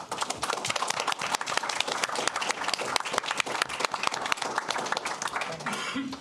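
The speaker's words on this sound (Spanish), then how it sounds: "Démosles un caluroso aplauso." A warm round of audience applause at a literary homage event, dense continuous clapping from a sizeable crowd throughout, steady and fairly loud, dying down at the very end.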